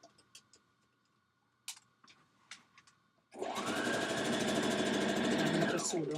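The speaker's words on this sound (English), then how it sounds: "I'm going to sew down the side going to the bottom of my dress." A sewing machine sews the side seam of a dress from a Vogue pattern. A few faint clicks and taps come first, then a loud, steady stitching run starts about halfway through and continues to the end.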